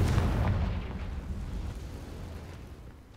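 A Confringo fire spell blasts off in the Hogwarts Legacy video game, a loud booming explosion with a rumbling low-end tail that fades steadily over about three seconds, with no voices over it.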